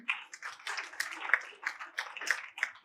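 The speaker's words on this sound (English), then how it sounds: "Give a round of applause to all of them." Scattered hand clapping from a small audience greeting a family seated in the crowd at a Tamil public talk, light and uneven, a few claps standing out near the front.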